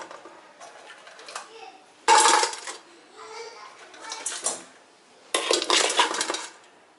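Crabs tumble into a metal pot on the stove as a crab is prepared for cleaning. Bursts of hard clattering and scraping alternate with quieter stretches, close up and loud.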